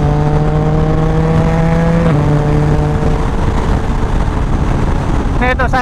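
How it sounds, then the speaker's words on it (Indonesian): Motorcycle engine pulling hard to 80 mph, steady loud drone with rising harmonic tones and heavy wind roar, heard from a rider wearing a KYT NX Race helmet on an American road. "Nih tuh saya ngegas ke 80 mph"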